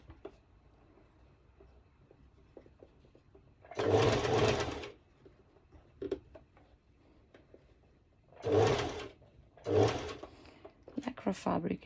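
Sewing machine stitching Lycra fabric for a sporty top runs in three bursts of steady whirring, about a second long each, with quiet gaps between and soft handling clicks.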